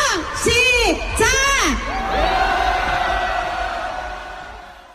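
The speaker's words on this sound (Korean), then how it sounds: "여러분, 저 하늘까지 그리고 온 국토가 들썩이게 여러분의 함성 소리 듣도록 하겠습니다." A large crowd at a political rally roars and shouts together, with rising and falling whoops and cries, loud and close, then a sustained cheering swell that slowly fades.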